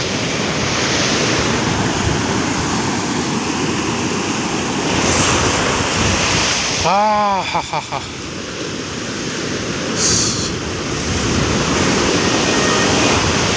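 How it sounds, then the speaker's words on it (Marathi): Sea waves wash and break continuously on Kundapur beach, a loud broad roar mixed with wind buffeting the microphone, and a brief spoken word midway. "समुद्राचे लाटा"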